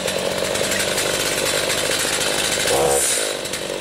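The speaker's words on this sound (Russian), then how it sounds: "пилим это дерево на несколько маленьких кусочков" Chainsaw bucking a felled tree lying across a road into small pieces, a loud, close, continuous engine roar under load with a brief pitch change near the end.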